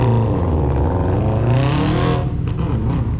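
A race car with a Renault Clio 2-litre single overhead cam engine, running at a hidden race track in Australia. It gives a loud, close engine drone that swells and revs with shifting pitch across the whole stretch.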